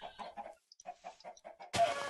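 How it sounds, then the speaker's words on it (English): A chicken in the Minecraft video game clucks in quick rhythmic bursts, a stutter of short clucks, a brief pause, then another run of clucks ending in a sudden loud rustling burst. "We got a chicken with an axe."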